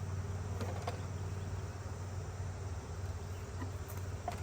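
Honeybees swarm and buzz loudly around an open beehive during queen work, a steady dense drone holding close and constant throughout.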